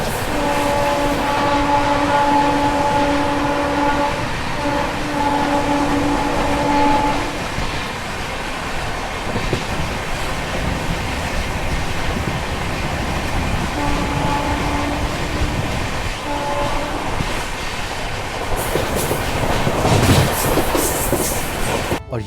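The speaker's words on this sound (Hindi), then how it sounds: "सोनीपत स्टेशन को फ़िलहाल स्किप कर रहे हैं, और वो भी 130 की रफ्तार में।" A Shatabdi Express races through a station at speed, with a sustained loud rumble, rhythmic clatter of wheels over rail joints and a horn sounding in bursts, heard from on board.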